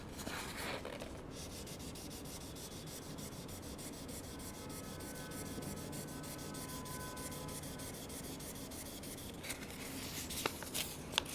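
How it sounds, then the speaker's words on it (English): Steady, even rubbing of 1500-grit sandpaper against a Harley Benton SC-500 guitar, continuous and close, with a few sharper scrapes near the end. "I'm going to try some 1500 grit sandpaper."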